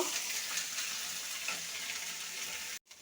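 Cumin paste sizzles steadily in a pan while being cooked down for a bottle gourd (lau ghonto) dish, a continuous close hiss that cuts off abruptly near the end.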